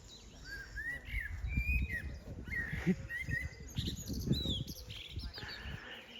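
Birds sing in a quiet Netherlands village, several overlapping chirps and short whistled phrases at moderate distance, over a low rumble of outdoor background noise.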